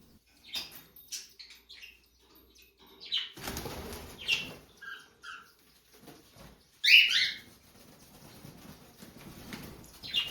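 A pet cockatiel flapping its wings in short bursts of flight inside a room, soft fluttering beats coming and going in quick clusters amid near silence, with a few faint chirps.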